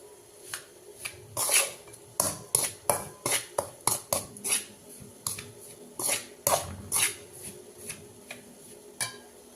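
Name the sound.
mixing ground idli podi spice powder in a vessel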